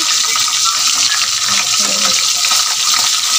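Milkfish (bangus) fries loudly in oil in a pan and is flipped, with a continuous close sizzle and a brief clatter partway through.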